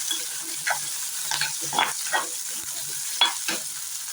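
Ingredients sauté in a pan for country chicken curry, a steady close sizzle broken by repeated scraping stirs of a spoon against the pan.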